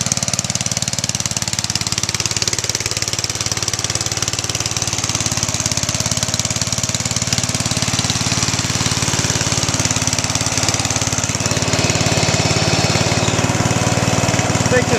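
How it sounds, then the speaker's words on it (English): A Yard Man lawn tractor engine runs nearby at a steady idle, with an even, rough rumble that continues unbroken from start to finish. "I got the yard man finally running"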